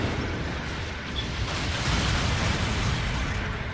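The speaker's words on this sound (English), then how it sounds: "How did that cannon shot not hit him?" A cannon shot explosion in the Gundam Battle Operation 2 video game, heard as a loud, dense roar of blast noise that holds steady for several seconds without letting up.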